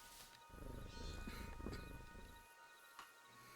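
Big-cat growls and snarls from a playable feline in an MMORPG video game, several close rumbling vocalisations in quick succession, then fading into quieter ambience with a faint final growl.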